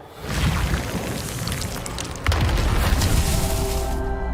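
The Reparo repair spell is cast in Hogwarts Legacy as a swelling magical whoosh and rumble that grows louder. It surges sharply partway through, then sustains with a faint ringing shimmer toward the end.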